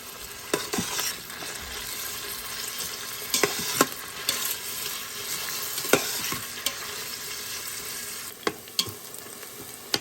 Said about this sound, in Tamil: இப்போது இதை நல்லா வதக்கிக்கணும்